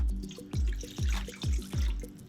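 Warm water poured into a mixing bowl while making focaccia pizza dough, heard as a series of close splashing glugs and drips arriving in uneven bursts, quiet and alone.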